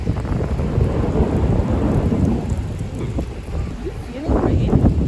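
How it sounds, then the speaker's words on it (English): Thunder rolls through a stormy night over wind and rain, a continuous low rumble that swells and fades, loud and close-sounding, with wind buffeting the microphone. "It's gonna thunder again."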